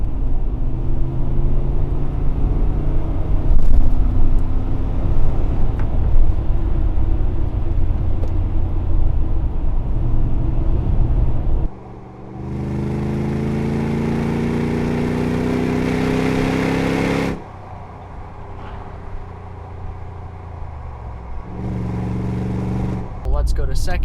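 A first-generation Toyota Sequoia with a Dirty Deeds Industries exhaust rumbles at a steady cruise, then its engine note climbs loudly under hard acceleration before easing back, heard from close by.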